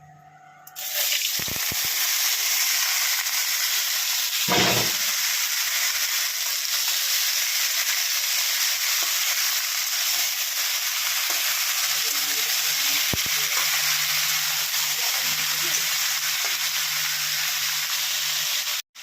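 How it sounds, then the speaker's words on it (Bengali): Boiled elephant foot yam poured onto cumin tempering on a flat griddle sizzles loudly and steadily throughout, with a couple of dull thuds of the food landing early on. "এখানে চাটু বসিয়েছি পাতুরিটা বসাবো জিরা ফোড়ন দিয়েছি আর এখানে ওল সেদ্ধ করে নিয়েছিলাম এটা আমি ঢেলে দিচ্ছি"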